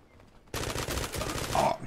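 Gunfire in the shooter game Zula, a sudden loud burst of rapid shots that starts after a quiet moment and keeps going for over a second.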